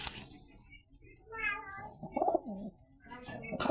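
A white high flyer pigeon coos softly in a home loft, a few low throaty burbles rising and falling over faint background noise and a nearby voice.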